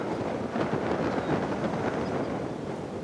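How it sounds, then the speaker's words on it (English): Strong wind roars across a bog beside choppy water with whitecaps, a loud, steady broadband rush with gusty swells buffeting close to the microphone, with no voices. "the wind is really whipping. I can hear it."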